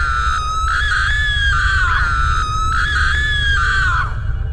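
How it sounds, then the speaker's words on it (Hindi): A witch in a comic horror cartoon screams loudly in two long, wavering shrieks, each rising and bending downward, over a constant low rumble with no speech. "उस चुड़ैल को तो बहुत ज्यादा गुस्सा आता है और वो जोर जोर से चिल्लाने लगती है।"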